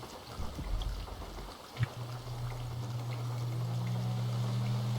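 Boat motoring across water in a fishing roleplay game, with a steady low engine drone that starts abruptly and holds at an even level over a watery wash, with no speech.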